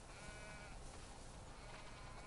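Sheep bleating continuously against a dense, noisy backdrop, the calls blending into a steady flock sound.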